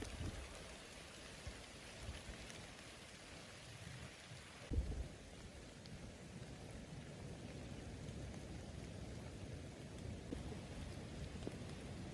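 Heavy rain pours steadily over a hut on a high mountaintop, with a low rumble of thunder breaking in near the middle and the downpour continuing alone throughout.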